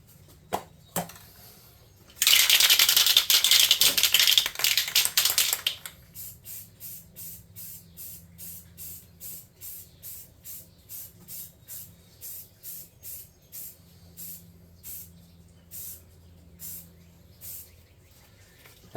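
Black base coat sprayed onto a tabletop miniature: one loud, steady hiss lasting about three seconds, followed by a long run of short, evenly spaced faint clicks, close and without speech.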